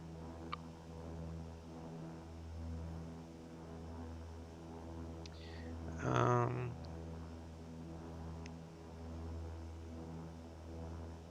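A King Air propeller aircraft taxiing in the flight simulator X-Plane 11 drones steadily with a constant tonal hum, while a short voice cuts in midway.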